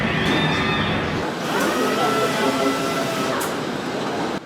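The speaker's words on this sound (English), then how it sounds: "You are now watching a dance of robots that gradually and automatically weld the entire body of the Edge and Flex" Robots automatically welding Ford Edge and Flex vehicle bodies on a factory line, a dense, loud, continuous mechanical roar with whirring and hissing layers and occasional clanks, with a voice speaking over it.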